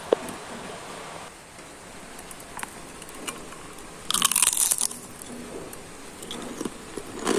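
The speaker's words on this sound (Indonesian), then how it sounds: "Ini tuh bener-bener garing banget, rapuh, dan yummy banget cookies" A crisp crunch from a single bite into a brittle homemade cookie, fairly close, with soft chewing noises around it and no talking.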